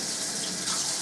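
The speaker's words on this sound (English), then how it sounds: "So it just fills from the tap." Water runs from a tap into the tank of a Panasonic EW1211 dental water flosser in a laundry area, a steady hissing rush that is close and constant, with no voices.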